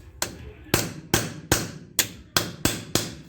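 Hubcap being tapped onto the front wheel hub of a 1976 Dodge D100 pickup using an old hunk of exhaust pipe: eight sharp metallic knocks at a steady pace, close and loud, with no talking.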